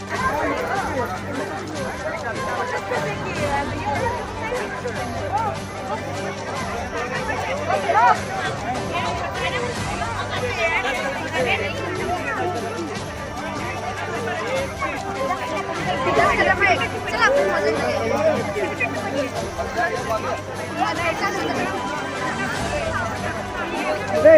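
A large crowd of villagers in the eastern Miraj area, gathered at Erandoli to watch an army helicopter land, murmurs and chatters steadily throughout, with a voice speaking over the continuous babble.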